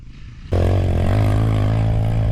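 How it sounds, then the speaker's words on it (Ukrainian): A Shineray VXR 300 motorcycle's exhaust roars in after half a second of quieter sound, holding a loud, steady, close engine drone with a rich buzzing tone to the end. "Вихлоп прикольний."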